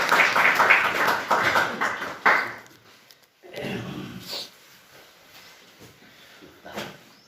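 A church congregation claps to welcome a pastor: a few seconds of dense, fairly close applause that trails off into scattered claps and quiet room noise.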